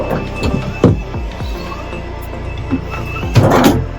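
Large drawers in the cabin of an HH52 catamaran are slid open and shut, giving several short knocks and rolling thuds, with a louder rattling slide near the end, heard close up with no talking.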